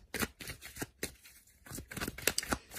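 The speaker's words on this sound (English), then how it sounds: "let's give the cards a good shuffle" Tarot cards are shuffled by hand at close range in quick, soft riffling bursts and crisp slaps that come in uneven pulses, fairly quiet, with no talk over them.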